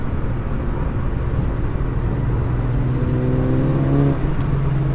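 A 607bhp SEAT Leon Cupra driven on a wet race track in a high gear, its engine a loud steady drone with road roar, rising into a clearer tonal whine near the end.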